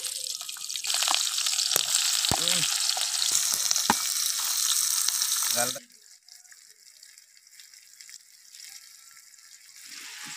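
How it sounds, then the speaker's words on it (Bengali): Onion dropped into hot oil in a village kitchen, a loud bright sizzle with a few clinks for about six seconds, then the hiss falls away to a much quieter low simmer. "সামান্য পরিমাণে একটু তেলটা গরম হইবে, এরপর পেঁয়াজটা দিতে হইবে। এই দিলাম পেঁয়াজ।"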